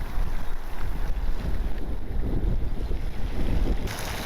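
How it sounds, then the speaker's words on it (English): Wind gusting steadily across a small pond, a loud, constant broadband roar with buffeting against the microphone for the whole stretch, and no voices. "We got our wind going from our left to our right."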